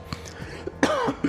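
A man coughing close to the microphone, a few short harsh coughs and throat clearing in quick succession.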